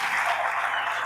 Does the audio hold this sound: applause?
yes